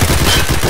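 Rapid automatic gunfire in the Escape from Tarkov shooter game, a loud, dense burst of shots with no pause, heard alone.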